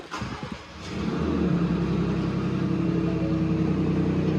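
A Ford Ranger Raptor pickup truck engine cranks and catches after a few clicks, then settles into a steady, close, rumbling idle.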